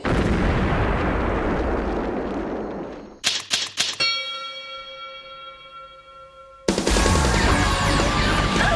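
A Halloween pumpkin cannon blast in an anime: a loud rumbling roar cuts off into a burst of sharp booming impacts, then a long ringing bell-like tone fades before a second heavy blast erupts.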